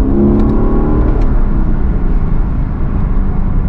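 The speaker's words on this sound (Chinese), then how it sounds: "切换到 Sport Plus 以后，声浪明显很狂躁。" A Lexus LC500 grand tourer accelerates hard in Sport Plus mode. Its engine gives a loud, continuous, aggressive roar with a rising rev through the whole stretch, heard from close up inside the car.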